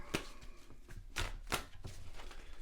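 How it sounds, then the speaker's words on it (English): A Tarot of Prague deck of tarot cards being shuffled by hand, with soft, uneven riffles and slaps close by in a quiet room, repeating several times over a few seconds. "So I'm going to shuffle your cards, and I'm going to be using my Tarot of Prague deck."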